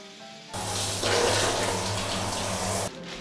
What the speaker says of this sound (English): pour some aroma water to the stone and get relaxed with the scent